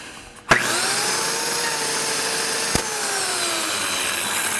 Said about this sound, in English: when you try to push in the cutter, it may try to move the wood away